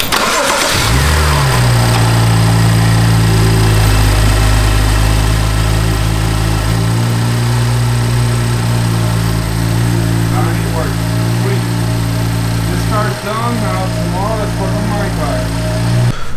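A BMW N55 car engine cranks, catches and settles into a loud, steady idle close by, with a brief dip and recovery near the end and voices talking over it.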